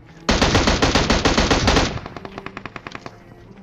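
Gunfire from a burst rifle in the video game PUBG Mobile, with a loud close rapid volley of about a dozen shots followed by fainter, more distant spaced shots tapering off.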